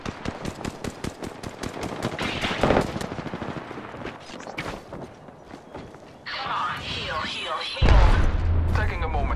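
Rapid automatic gunfire in the video game Apex Legends, a fast rattling burst followed by scattered shots, booms and clatter, with a voice speaking in between.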